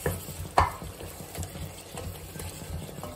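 Cut tomatoes cook down in a pan for tomato rice, a soft low sizzle and stir with one sharp clatter near the start, close up and with no talking.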